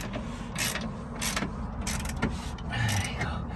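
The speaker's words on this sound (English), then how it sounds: "So 22 spanner on top, 22 ratchet on the bottom." A 22 mm ratchet works a control arm bolt on a Toyota Avensis D4D, with repeated clicking and creaking strokes and metallic rasps in a close, busy workshop.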